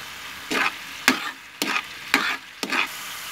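Garlic fries in a hot pan while being stirred, giving five short, crisp sizzling bursts in an even rhythm, each rising sharply and fading between strokes, heard alone.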